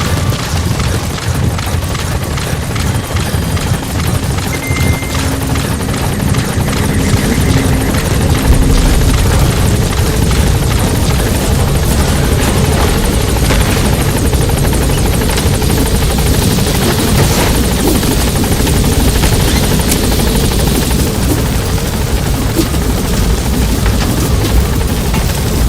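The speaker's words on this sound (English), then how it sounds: "Support helicopter has arrived." A support helicopter arriving in the video game Metal Gear Solid V: The Phantom Pain, a loud, constant rotor roar with engine whine filling the whole stretch, with no talk.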